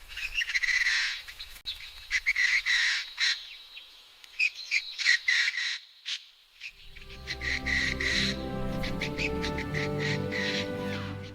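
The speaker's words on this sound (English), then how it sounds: "Colorful lorikeets bring life and energy to the treetops." Wild lorikeets call from the treetops in Australia, a busy flock of shrill chattering screeches, loud and close, followed by a denser, sustained chorus of calls.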